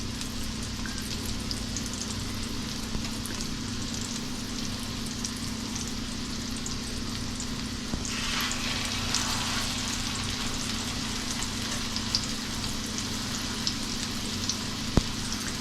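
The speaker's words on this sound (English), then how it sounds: "we're going to let these fry for about 3 minutes on each side until they get golden and crispy." Squash or zucchini fritters frying in oil in a pan, giving a continuous, even sizzle and crackle with a steady hiss throughout.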